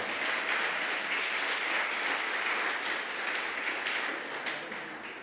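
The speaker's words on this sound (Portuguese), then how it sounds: "Você pode aplaudir o Senhor?" A church congregation applauds steadily, a dense wash of many hands clapping at moderate volume that holds for about five seconds and tapers slightly at the end, with no talking over it.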